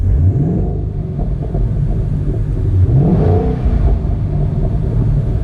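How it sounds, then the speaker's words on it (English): A Ford Mustang fitted with Recaro seats revs its engine in a loud, close, deep rumble, with rising and falling pitch sweeps as the throttle is blipped, and no talking over it. "From the sound of it, well, you probably already know it's a Mustang"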